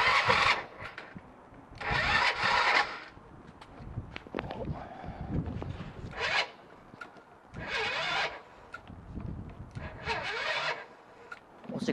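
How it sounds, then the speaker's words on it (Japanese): A Honda Magna 50 motorcycle engine runs close by, surging in several loud bursts a few seconds apart between quieter idling stretches. "ちょっとエンジンかけてます。"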